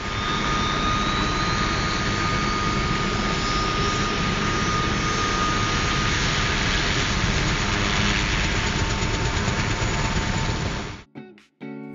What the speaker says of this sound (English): That was the sound of Puma and Chinook helicopters starting up during rehearsals